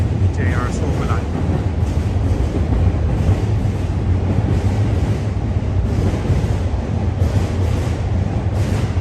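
A JR Sobu line train rolls along elevated tracks in Tokyo, a steady loud rumble with rail clatter filling the whole stretch, heard from street level nearby while a person talks over it.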